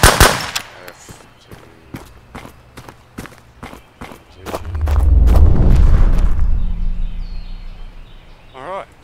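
Gunfire in a survival video game: a rapid run of sharp shots, followed by a rising low rumble like an explosion that swells and fades, with a voice briefly speaking.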